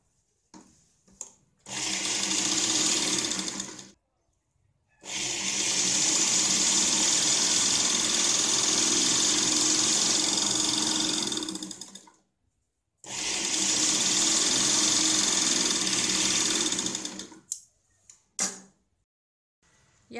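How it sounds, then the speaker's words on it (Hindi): Stitching a blouse lining on a sewing machine: three long runs of steady, fast whirring motor and needle chatter, separated by brief pauses with small handling clicks, close and loud. "तो इसके ऊपर हम सिलाई लगाते हैं।"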